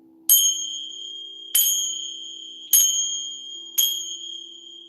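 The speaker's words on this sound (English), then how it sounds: "I'm going to use my sacred bells to clear the energy in the room." Four separate strikes of sacred ritual bells, rung to clear energy in a room; each bright ring sounds out cleanly and decays slowly, with a steady low hum underneath and no voices.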